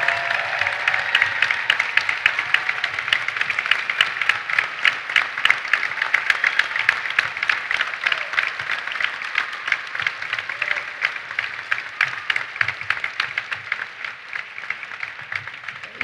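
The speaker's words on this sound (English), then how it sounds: "give them, everybody here in this room, a big hand of applause" Sustained applause from a room of people at a Georgia women's basketball introductory press conference, dense steady clapping with a brisk rhythm that continues for about sixteen seconds without talk.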